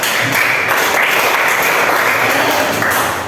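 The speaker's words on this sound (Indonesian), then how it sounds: "Kita beri tepuk tangan anak-anak" Schoolchildren in a classroom applaud a group that has just presented, a steady, loud wash of clapping that fills the whole moment without pause.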